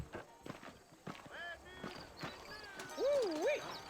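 Horse hooves clip-clop in a Red Dead Redemption game scene, a steady, soft, fairly close rhythm under a busy mix of background ambience and sliding musical or whistle-like tones.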